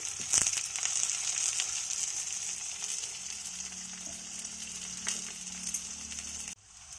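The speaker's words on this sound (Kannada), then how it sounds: "ಇನ್ನು ಸ್ವಲ್ಪ ಈರುಳ್ಳಿ ಫ್ರೈ ಆಗಬೇಕು." Onions fry in a pan of hot oil for drumstick sambar, a steady close sizzle with a few metallic clinks of a spoon against the pan, cutting off near the end.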